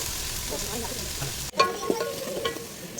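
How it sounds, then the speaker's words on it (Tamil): Mint leaves and large onions sauté in hot oil for coconut milk rice, giving a soft steady sizzle, then a sudden clatter of stirring with a few sharper pops close by. "இப்போது புதினா லீஃபு அண்டு பெரிய வெங்காயம் இதை வந்து எண்ணெயில் வதங்கட்டும்"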